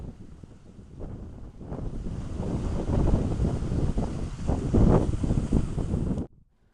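Wind gusts across an outdoor pond, a steady, full rumble with heavy buffeting on the microphone that swells midway and then cuts off abruptly, with no voices.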